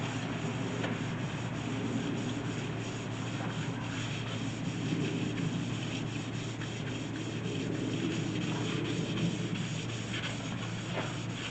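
Steady, continuous abrasive rubbing of 320-grit sandpaper over the painted body of a 1985 Chevy C10 truck, close and unbroken for the whole stretch, with no talking.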